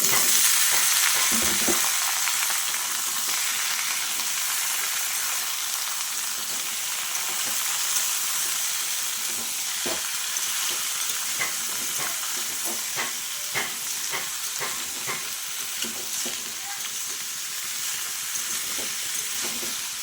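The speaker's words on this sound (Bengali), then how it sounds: "আলুটা কিন্তু আমি একটু লাল করেই ভেজে নিয়েছি আর এখন দিয়ে দিচ্ছি চাল কুমড়োগুলো" Ash gourd pieces go into a pan with browned fried potatoes, and a loud, steady sizzle of frying fills the scene, broken by repeated scraping and knocking of stirring.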